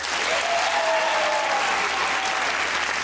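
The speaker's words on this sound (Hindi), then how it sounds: "छोटी सी ताली और बजाइए" A studio audience claps steadily and loudly in a dense wash of applause on a Pakistani comedy talk show, with a faint tonal whistle running through the middle.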